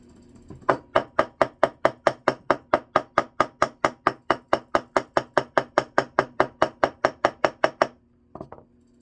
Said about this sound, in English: we're going to use our ball peen hammer, and we're going to tap the bottom